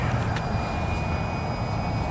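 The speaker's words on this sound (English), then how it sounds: "This is obviously a jet." A jet aircraft comes in to land, giving a steady, broad roar that holds level throughout with no speech over it.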